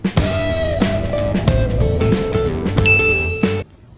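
A bright bell ding rings out over a busy musical intro, with a sustained high chime near the end before it cuts off.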